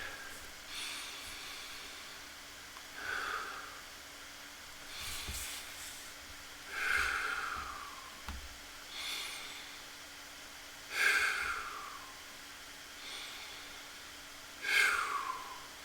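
Slow, deep breaths taken before a group invocation, drawn in and released in an even rhythm about every two seconds, close and soft with airy hiss, no talking.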